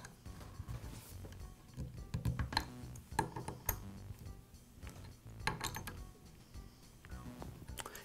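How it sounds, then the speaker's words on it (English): A Makita planer's cutter head, fitted with a double-edged blade set, is turned slowly by hand, giving soft close metallic clicks, light clinks and ticks at an irregular pace, faint and with no talk. "Just going to rotate the cutter head to make sure nothing is rubbing"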